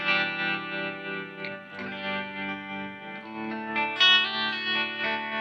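Electric guitar played through a Walrus Fundamental tremolo pedal at a slow rate, sustained notes swelling and fading in a gentle wavy pulse, close and moderately loud, no voices.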